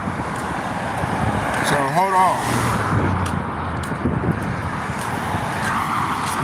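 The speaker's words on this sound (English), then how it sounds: "I'm gonna wait till these cars go by because it's so loud" Cars pass by on a road close at hand, a continuous loud traffic roar with a tire or engine whine partway through, while a person speaks over it.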